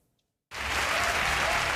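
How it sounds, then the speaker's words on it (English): Applause at the end of a Democratic presidential debate in Iowa bursts in suddenly after a brief silence. A dense, loud, continuous roar of many hands clapping follows and holds steady. "With applause still ringing at the end of the Democratic debate in Iowa last night"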